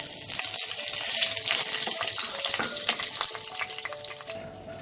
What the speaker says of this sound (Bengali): এবার এই তেলে আমি একটা তেজপাতা, 2টো শুকনো লঙ্কা আর 1 চামচ জিরে ফোড়ন দেব।